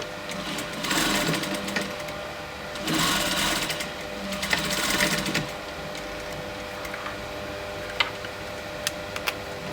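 A sewing machine stitches a pinch pleat in curtain fabric, its steady mechanical whir running in two louder bursts and then easing to a quieter hum with a few sharp clicks, close up, no talking.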